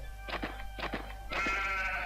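The sheep weapon in the Worms 3D video game bleats in three quick, close, cartoonish calls, the last one longer and more sustained, with no talk over it.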